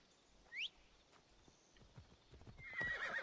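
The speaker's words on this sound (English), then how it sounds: "Right, let's go get our horse." Horse hooves clip-clop and a horse whinnies in Assassin's Creed Odyssey, with a brief neigh early on and a rising whinny near the end over steady hoofbeats.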